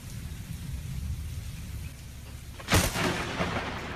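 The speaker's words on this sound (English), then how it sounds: "Lightning is so cool." Steady rain hisses during a lightning storm until a sudden loud thunder crack bursts out near the end, followed by lingering rumble and continued downpour.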